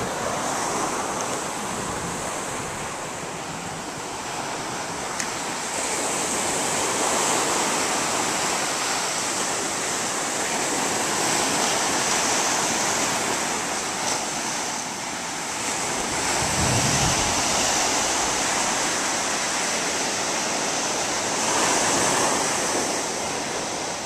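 Gentle surf washing onto a beach at S-Turns in Rodanthe, Hatteras Island, North Carolina, on a calm morning, a steady broad wash of small waves with light wind noise and no talk.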